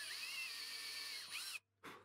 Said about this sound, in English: drill the holes to their full depth